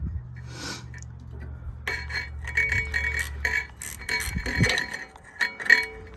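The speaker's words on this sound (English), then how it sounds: "back the banjo bolt out and get our little catch pan / parts bin ready" A crusty banjo bolt being worked out of a 2.5-ton Rockwell axle hub on an M35A2 Deuce and a Half truck, heard as quiet irregular metallic ticks, clinks and scrapes over a low hum, with no voices.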